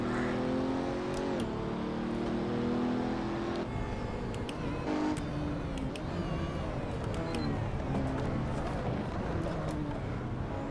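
A Pagani Huayra engine in the Assetto Corsa racing sim revs and pulls steadily, its rising and falling tones climbing through gear changes over about ten seconds of continuous, fairly loud drive.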